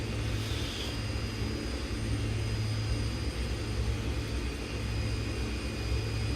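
Steady propeller aircraft engine drone from the X-Plane 10 flight simulator on approach from Saba to St. Barts, a loud continuous low rumble and whine holding level throughout without talk.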